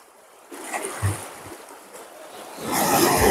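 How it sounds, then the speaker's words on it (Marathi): A boat comes in on the water near Bhiv Bandar, by Dabhol and Dapoli on the Konkan coast. Soft lapping water and low motor noise build to a louder rushing wash at the end. "हे बघा, हे बोट आले"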